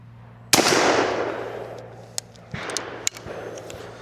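A .410 Beretta 686 Silver Pigeon shotgun fires once from the full-choke top barrel at an outdoor pattern board, a sharp close blast with a decaying outdoor echo, followed by a few small clicks and knocks.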